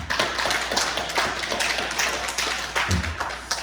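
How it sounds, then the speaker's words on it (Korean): Congregation clapping in a church, a dense sustained burst of many hands applauding together, fairly close and steady throughout, no speech over it. "그 자리에서 인사드릴 때 박수를 한번 하나 하겠습니다."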